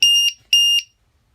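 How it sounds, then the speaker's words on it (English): A LiPo battery voltage alarm on a telescope power box gives two loud, sharp, high-pitched beeps in quick succession, close, then falls silent. "This is a Lipo alarm. It looks at each cell of the lithium polymer battery and lets you know what each cell is at."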